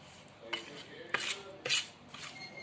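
A spoon scrapes and clinks against a dish while amla pickle is mixed with salt, making several separate scraping strokes with short metallic knocks between quiet pauses, close and fairly soft.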